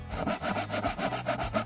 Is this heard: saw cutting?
yes